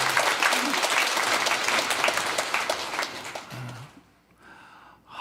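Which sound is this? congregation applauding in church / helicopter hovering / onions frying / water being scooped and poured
congregation applauding in church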